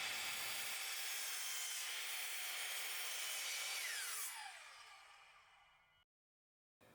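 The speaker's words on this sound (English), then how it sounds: "Once I had all the 2x4s cut to size, I started cutting the 1x8s." A power saw cuts 1x8 wooden boards to size, a loud sustained whine and cutting roar that winds down with falling pitch after the cut, then silence and a brief return of sound.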